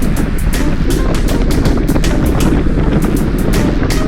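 Headwind roaring steadily across a cyclist's microphone on a fast group road ride heading into a south wind, a loud continuous buffeting rumble with no break throughout.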